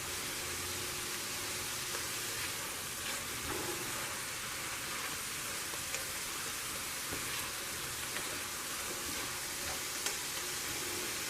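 Steak, green peppers and cilantro sizzle steadily in a pot, a constant bright hiss with no voices.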